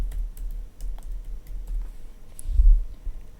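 A password typed on a computer keyboard, a quick run of close, crisp keystrokes ticking alone in a quiet room, ending in a heavier key press.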